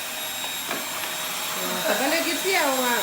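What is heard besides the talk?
vacuum cleaner running on the floor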